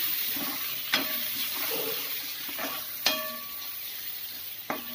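Spices are stirred in a hot frying pan while making arbi (taro root) sabji, with a steady sizzle beneath three sharp spoon scrapes spaced a couple of seconds apart, heard up close with no talking.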